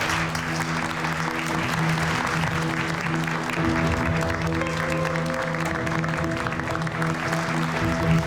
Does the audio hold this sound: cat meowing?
no